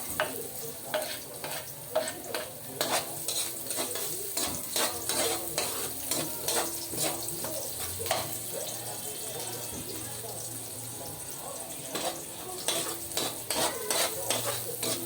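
Onions being stirred as they sauté in a frying pan, with steady sizzling under repeated clinks and scrapes of a utensil against the pan throughout.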